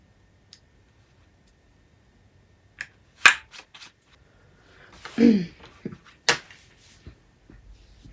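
Tiny scissors trimming loose embroidery thread off a machine-embroidered logo: a few sharp, isolated snips and clicks spread across a quiet stretch, with soft handling rustles between them.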